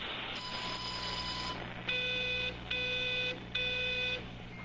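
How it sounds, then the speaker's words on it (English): A telephone rings in the video game Everybody's Gone to the Rapture. Three steady electronic trills repeat at a regular pace after a softer opening tone, all over a low constant hum. "there's a telephone ringing somewhere."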